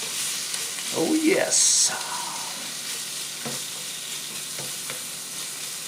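Turkey bacon and other ingredients fry in cannabis-infused oil with a steady, soft sizzle, broken by a brief stir or scrape, while a voice speaks briefly over the cooking.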